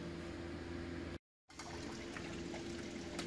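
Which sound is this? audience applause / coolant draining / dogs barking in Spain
coolant draining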